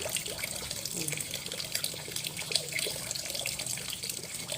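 Tap water runs continuously into a sink while termite mushrooms are rinsed, a steady close splashing hiss with small knocks and drips.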